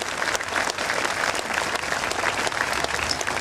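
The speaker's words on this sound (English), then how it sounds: "Let's give them a rousing round of applause." An audience gives a rousing round of applause at a community event, dense and sustained clapping from a crowd throughout, with scattered voices faintly under it.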